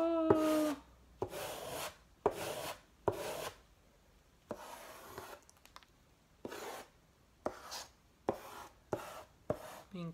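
White chalk scrapes across black paper in a series of short, gritty drawing strokes, each a separate rasping burst with brief pauses between, close and fairly quiet.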